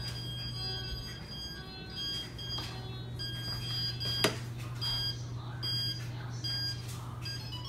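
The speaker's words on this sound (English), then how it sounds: "So that's my alarm." A home security alarm armed through Alexa sounds off with repeated high electronic beeps and tones over a steady low hum, moderately quiet and with no one speaking.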